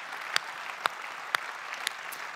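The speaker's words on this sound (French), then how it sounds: "On peut applaudir" Soft audience applause at an evening event, a thin, distant patter of hands punctuated by a few louder individual claps roughly every half second.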